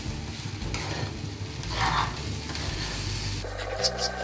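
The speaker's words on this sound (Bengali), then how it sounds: "এই এতটা চিনি দিচ্ছি, এইভাবে নাড়িয়ে চিনিটা যেন ভরে না যায়।" Sugar being stirred into prawn pulao in a pan, a steady scraping stir over a soft, continuous sizzle, close and moderately loud, with a brief clink of the utensil near the end.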